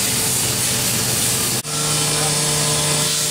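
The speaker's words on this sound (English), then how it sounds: "we're just moving the table here, warming the machine up." A 1998 DMG Deckel Maho DMU70V 5-axis vertical machining center runs its warm-up program with the spindle at 7,500 RPM while the table moves, giving a steady mechanical hiss and hum, with a short dropout partway through before a new tone settles in.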